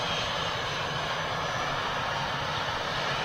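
An Etihad Airbus A380 jet flies past, a dense, loud, continuous engine roar with broad rushing noise that holds steady throughout.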